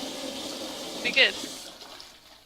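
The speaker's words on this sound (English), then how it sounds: "Let's flush." A toilet flushes in the video game The Cat Lady, a short watery gush rising and fading over about a quarter second, with someone talking throughout.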